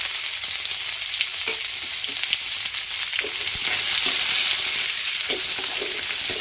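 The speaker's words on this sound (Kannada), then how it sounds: "ಈಗ ಕಟ್ ಮಾಡ್ಕೊಂಡಿರೋ ಈರುಳ್ಳಿ ಹಾಕೋಣ." Chopped onions go into a pan and fry with sweet potato leaves for kadubu, giving a steady, close sizzle with faint stirring scrapes throughout and no talking.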